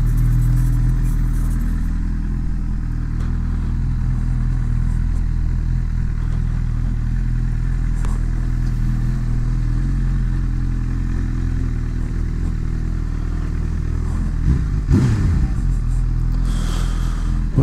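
A Honda motorcycle, a CB1000R or VFR750, rolls slowly downhill in first gear with its engine in a steady low rumble close by for a long stretch, and a louder swell of revving near the end.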